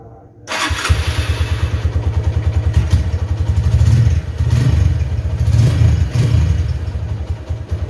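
A 2008 Honda Tiger Revo motorcycle engine starts up after a brief quiet moment, then settles into a loud, close, rhythmic pulsing idle as it warms up, with occasional light revs.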